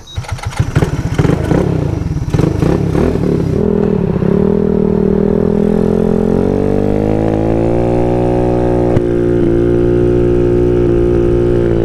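A 300cc Grom motorcycle engine cranks with rough clattering, then catches and idles. It revs up to a higher steady drone and keeps running loud and close for about twelve seconds.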